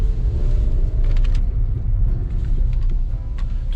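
Steady low road rumble and drivetrain noise from underneath a used Kia Soul while driving, with a faint rattle from a rear part under the car, continuous and fairly loud.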